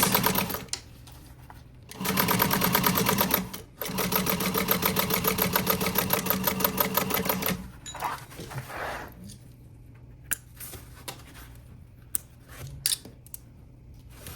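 A sewing machine stitching zipper tape onto a tote lining runs in two long rapid bursts of even mechanical chatter, followed by quieter handling clicks and rustles.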